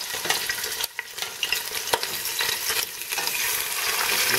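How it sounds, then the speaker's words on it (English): Beef pieces sauté in a pot with a close, continuous crackling sizzle, punctuated by a few sharp spatters and utensil touches, no voices. "I'm just going to begin the saute process with the beef."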